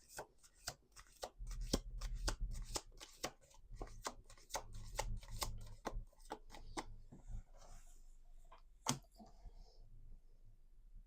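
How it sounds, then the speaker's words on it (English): Playing cards shuffled repeatedly at a table, a fast series of crisp riffling clicks and slaps in bursts that thin out toward the end, close and alone. "We're going to do 2 more shuffles."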